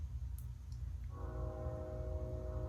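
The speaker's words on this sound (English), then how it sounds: "There's a train. Can you hear that?" A distant train sounds its horn, a faint sustained multi-tone blast rising out of steady low rumble and background hum, continuing to the end with no voices present.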